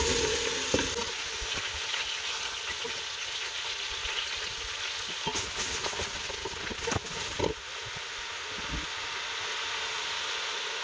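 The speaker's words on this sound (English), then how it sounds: "we're going to just pop our apples in." Apples cook in hot melted butter in a pot over medium-low heat, giving a steady, close sizzle broken by a few clinks and scrapes of stirring.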